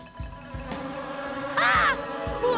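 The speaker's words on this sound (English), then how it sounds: "Bees come for the sap every time." Cartoon bees buzzing in a jungle scene, a low droning hum with pulsing swells and a brief higher-pitched whine, fairly close, among other animated sound effects.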